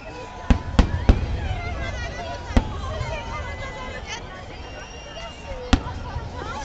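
New Year fireworks and firecrackers in Greece burst in several sharp, loud bangs at irregular intervals, some close together, over a steady backdrop of crowd noise and distant crackling.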